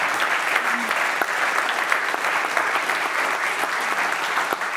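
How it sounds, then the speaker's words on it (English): An audience at an evening panel discussion on the future of the Middle East gives sustained, loud applause, a thick even wash of clapping with a few sharper claps standing out. "A very well-deserved applause"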